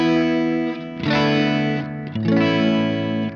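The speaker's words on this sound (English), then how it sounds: "So with the delay just by itself, it sounds like this." Electric guitar through a Carbon Copy analog delay pedal with modulation plays sustained notes and chords, each ringing out with a warm, slightly wavering repeat tail that blends into the next strum, loud and close with no talking.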